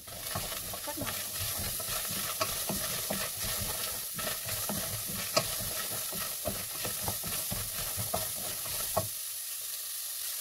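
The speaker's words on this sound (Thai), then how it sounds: "เราก็จะเอาไปผัดเนาะเอาไปผัดให้หอม" Diced garlic and shallots stir-fried in butter in a pan, a steady close sizzle with repeated scraping and stirring strokes for about nine seconds before cutting off.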